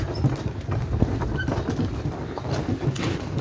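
Steady clopping of a draft mare's hooves on ground with a low rumbling background, close by, continuous and uneven in rhythm.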